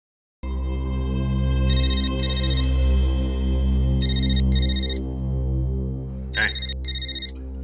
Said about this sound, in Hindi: फोन बज रहा है तेरा।